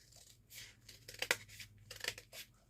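A few short, crisp snips of scissors slicing paper, close by, with brief pauses between cuts and no talking.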